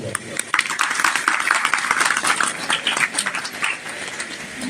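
Applause from an audience at a live bhajan satsang program, a steady dense wash of clapping sustained for several seconds at moderate loudness.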